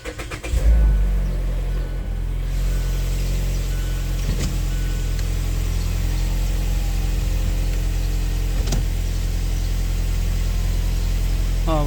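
Mazda car with its engine idling in park as the gears are shifted, a loud, steady low rumble after a brief start surge, with faint clicks from the gear lever at intervals.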